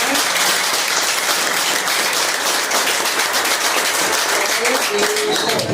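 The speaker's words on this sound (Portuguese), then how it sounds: "Dê um aplauso, Senhora." A church congregation breaks into dense, steady applause, loud and continuous throughout, with a few voices faintly mixed in.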